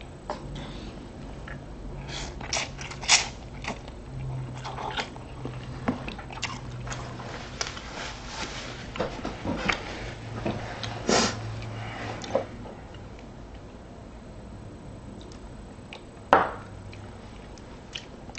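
Someone eats expired instant ramen noodles up close, with repeated wet bites, slurps and chewing in an irregular rhythm, plus occasional sniffs and louder crunchy peaks, and no talk.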